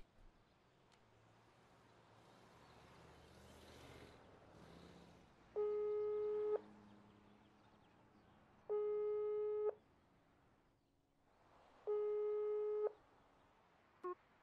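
A telephone busy signal in the horror video game Psych Chapter 3 sounds as three steady, evenly spaced tone bursts of about a second each, clear over a faint background hum.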